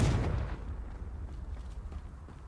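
A Confringo explosive spell cast in the Hogwarts Legacy video game, heard as one heavy, booming blast at the start that fades into a low rumbling tail.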